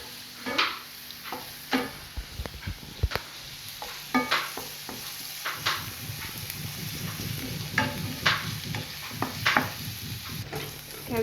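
Onions fry in a pan with a quiet, continuous sizzle, broken by repeated scraping and clinking as a utensil stirs them every second or so.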